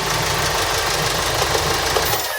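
A Hyundai D4CB diesel engine runs after an overhaul, with a loud, steady, close knocking rumble that continues unbroken throughout.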